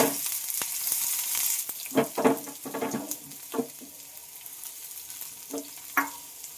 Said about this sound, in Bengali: শুধু পেঁয়াজ কুচি দিয়ে দেব এবার পেঁয়াজটা একটু ভালোভাবে ভেজে নিতে হবে